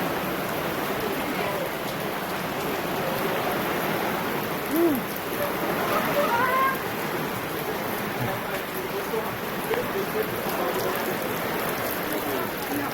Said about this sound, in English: It was hot and sunny, and now it's pouring rain.